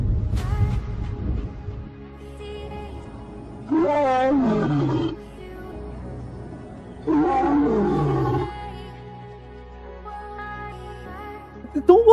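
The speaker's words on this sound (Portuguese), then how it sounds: "a vinheta que o Fernando sempre usou, né, desde os vídeos antigos, é um leão rugindo lá" A lion roars twice as part of an intro jingle, each loud, growling roar lasting over a second, separated by a low rumbling bed of music with a sharp hit at the end.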